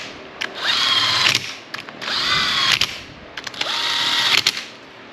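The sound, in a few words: power tool snugging up transmission bolts on Suzuki GSXR 1000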